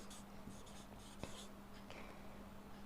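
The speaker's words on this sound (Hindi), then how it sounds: "अब हम अगर सीता वाला जो सेंटेंस था उसी को उठा लेते हैं तो हम क्या लिखेंगे," Writing by hand while teaching an English grammar lesson, faint scratchy pen or chalk strokes in short intermittent bursts against a steady low hum, with no talking.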